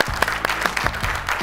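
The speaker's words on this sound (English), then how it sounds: "I'm clapping for myself." One person claps their hands nearby, about half a dozen sharp, slightly uneven claps in quick succession.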